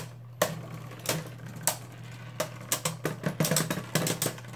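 Beyblade Burst tops clash in a tournament battle: sharp, irregular metallic ticks and clicks come in bursts over a steady low whirring hum, the collisions growing denser toward the end.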